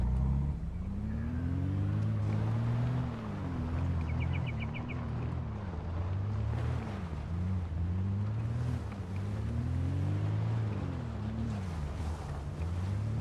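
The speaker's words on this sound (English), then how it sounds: "Time to take the truck on patrol." Game truck driving through Project Zomboid's world, a steady low engine drone with rising and falling revs, constant and fairly loud throughout, with no talking.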